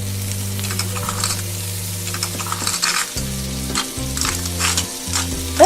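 A toy kitchen playset gives off a continuous sizzle of cooking food, crackling along at close range under background music, with a few small clinks and no talking.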